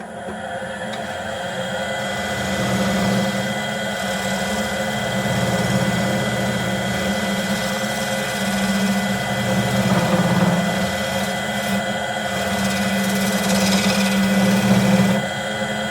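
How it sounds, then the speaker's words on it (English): A wood lathe spins a scrap workpiece while a spindle gouge cuts beads and ridges, producing a loud, steady whirring drone with a continuous scraping hiss throughout. "By beating, I mean beating with a spindle gouge to make ridges."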